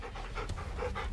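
A dog pants in short, rhythmic, breathy huffs in Final Fantasy XVI, close and steady with a soft low rumble beneath.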